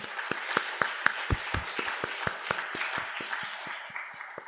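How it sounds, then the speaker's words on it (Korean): A church congregation claps in a steady rhythm during a Sunday worship service, the sharp, even claps repeating about every quarter second under a faint room wash. "우리 그 하나님께 영광의 박수로 올려드리겠습니다."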